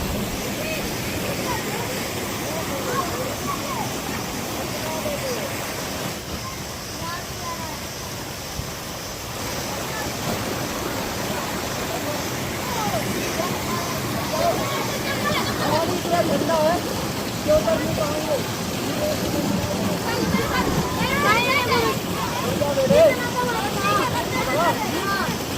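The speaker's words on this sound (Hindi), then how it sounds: "तो ये है झरना कह लीजिए" Chauras waterfall No. 2 in the Himachal mountains rushes with a steady broadband hiss of falling water, moderately loud and constant, while people talk over it.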